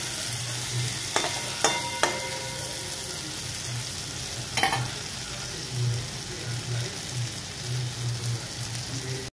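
Bengali banana chorchori fries in oil while being stirred, making a continuous close sizzle punctuated by a few sharp spatula clicks and scrapes against the pan, with no talking.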